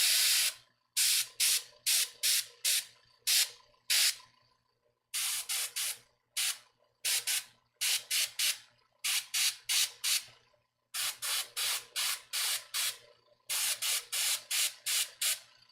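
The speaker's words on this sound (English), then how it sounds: "I like spraying the lips like this" Spray paint hissing from an aerosol can aimed sideways at the lips of a bust, many short loud bursts in quick rhythmic clusters with brief pauses between groups, close up and with no talk.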